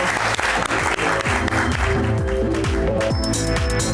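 Sustained applause from a crowd, dense and steady clapping throughout, fairly close and loud.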